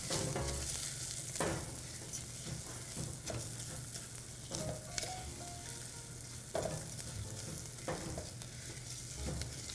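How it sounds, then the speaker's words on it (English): Rice and a bay leaf stirred through melted butter in a pot for rice pilaf, giving a steady close sizzle broken by periodic scraping stirs, with no talking. "And I'm going to add my rice and my bay leaf. And I want to coat the rice with butter."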